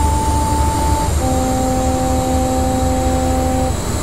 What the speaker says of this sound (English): And now we're right up into full throttle as we're passing another HST.